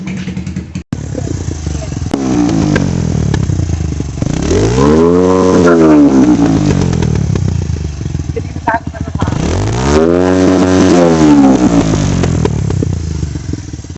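A Yamaha R6 motorcycle fitted with an Akrapovic exhaust, close and loud, idling roughly and then revved twice, each rev a sharp climb in pitch that falls back to a throaty idle.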